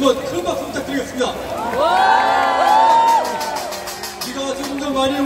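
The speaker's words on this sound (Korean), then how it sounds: "우리 김부겸 목사님께 다시 한번 큰 박수 부탁드리겠습니다" Large outdoor political rally crowd in Yeouido, Seoul, cheering, whooping and clapping loudly together, a sustained wash of many voices rising into shouts with scattered applause, rain falling.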